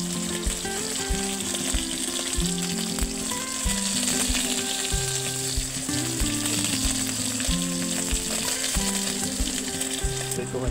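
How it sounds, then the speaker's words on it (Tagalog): Freshly caught fish frying in a pan give a loud, continuous, dense sizzle and crackle that runs unbroken for ten seconds, with a low tonal hum underneath and no talking. "Prituhin ko lang po ito"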